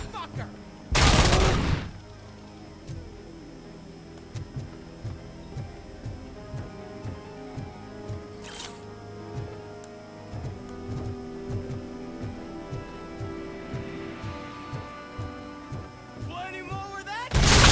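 Gunfire in the video game RoboCop: Rogue City: steady, regular bursts of shots with a loud blast near the start, moderately loud combat noise and some game sounds under it.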